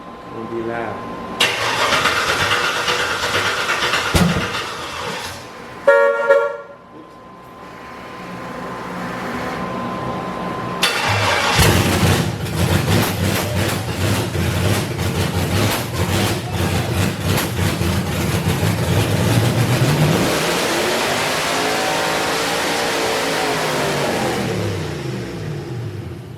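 Corvette engine cranking and firing up, sputtering briefly, then roaring into loud sustained revving and idling up close.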